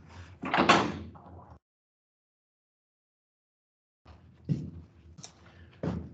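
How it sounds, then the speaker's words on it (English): A door is opened, making a few sharp knocks and clatters followed by a long silence, then a further burst of latch and frame noise with a brief sustained creak before a final bump. "Open this door."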